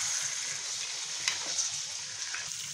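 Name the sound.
chicken frying with masala in a pan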